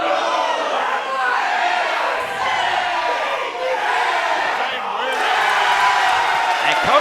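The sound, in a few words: wrestling crowd cheering and yelling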